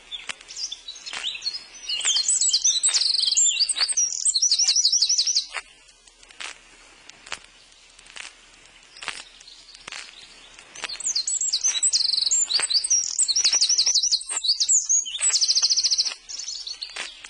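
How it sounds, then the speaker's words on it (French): A Eurasian wren sings loud, rapid, high trilling phrases in two long bursts, with a quieter stretch of faint chirps between them. "Non, c'est un troglodyte. Regarde-le qui sort du buisson."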